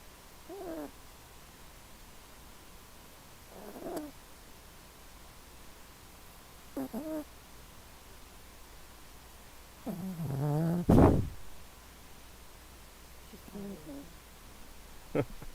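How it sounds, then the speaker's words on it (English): A cat snoring and purring close to the microphone: soft, rhythmic breathy rumbles recurring every few seconds over faint background hiss, with one louder burst near the end. "She was snoring a little bit."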